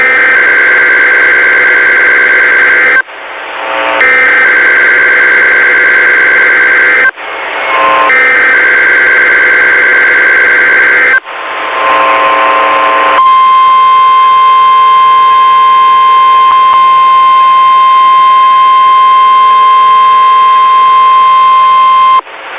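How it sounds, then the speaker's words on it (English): NOAA Weather Radio warning alarm device under test: loud, steady electronic alert tones sounding in long bursts separated by short gaps, then a sustained single pure tone, with no voices. "This is a test of NOAA Weather Radio's warning alarm device"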